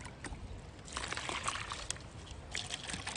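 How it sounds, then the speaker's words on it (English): A cup of water is poured into a gallon container while testing soil, a splashing trickle that swells and fades over a few seconds with no talking. "Now we're going to fill our cup with water."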